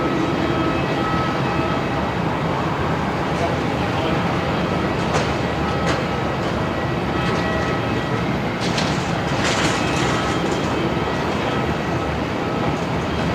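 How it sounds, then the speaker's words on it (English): A China Southern Boeing Dreamliner airliner taxis at Melbourne Airport, heard as a steady, loud, broadband engine roar and rumble from outdoors that holds constant throughout, with no voices. "The beautiful China Southern Dreamliner now taxiing out."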